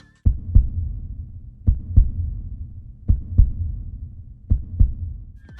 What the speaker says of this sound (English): We got an unused heartbeat sound effect found amongst those for classic Sonic's rival and boss